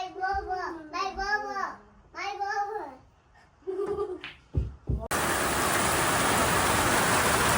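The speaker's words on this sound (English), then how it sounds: "It's pissing down rain." Heavy rain pours down in a steady, dense hiss that starts abruptly and continues loud, after a stretch of a child's babbling speech and a few clattering knocks.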